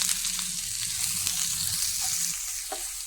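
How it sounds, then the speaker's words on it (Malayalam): Chopped onion, added with finely cut garlic, sautés in a hot pan with a steady, close, continuous sizzle and faint stirring scrapes, no voices. "സവാള ഒന്ന് വാട്ടി കൊടുക്കാം."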